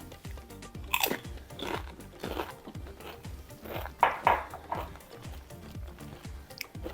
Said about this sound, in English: So I'm eating mine with some blue corn chips or blue tortilla chips.